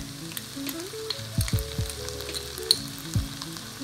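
Ginger paste sizzles and fries in a pan for a creamy methi chicken dish, a steady crackling hiss with a few low stirring knocks, close and alone without speech.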